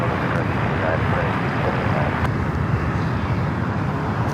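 A Boeing 747-400 taking off at LAX, a loud, dense, continuous jet engine roar at close range that stays steady from start to finish.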